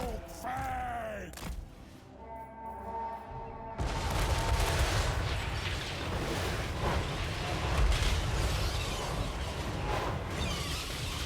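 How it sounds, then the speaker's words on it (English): Gunfire from lead belchers in a Total War: Warhammer 3 battle: a dense, sustained roar of fire and explosions over game effects, loud and continuous after a short quieter opening. "lead belchers do pretty well against the fell bats"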